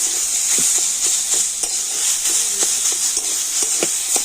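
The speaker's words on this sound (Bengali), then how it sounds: "এখন আমি সমস্ত কিছু ভালোভাবে নাড়াচাড়া করে নেব" Greens and potatoes stirred in a frying pan, a steady sizzle of oil under repeated scraping strokes of a spoon, close and moderately loud with no talking.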